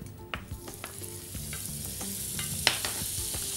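Two knobs of butter melt in a hot pan for a potato and cep gratin, with a steady soft sizzle and a few faint scrapes and clicks, close by and without speech.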